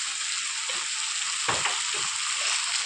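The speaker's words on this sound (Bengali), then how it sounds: "কিছুক্ষণ ভালোভাবে নাড়াচাড়া করে কষিয়ে নেব" Spices fry and are stirred in a pan for a catfish curry: a steady, soft hiss of sizzling oil with a few scraping stirs of the spoon near the middle, no talk.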